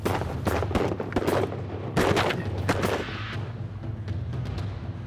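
Shotguns fire repeatedly at ducks during a Kansas hunt, a rapid cluster of sharp blasts in the first two seconds followed by scattered fainter shots.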